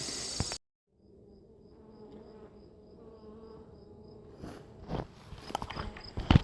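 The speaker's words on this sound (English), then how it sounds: "we will get these bees fed" Honeybees drone steadily around an opened hive colony, a close buzzing that carries on for several seconds before handling knocks and rustles build up toward the end.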